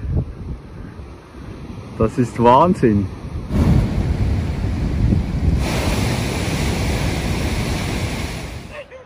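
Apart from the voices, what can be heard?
waves surging through a chimney-like rock blowhole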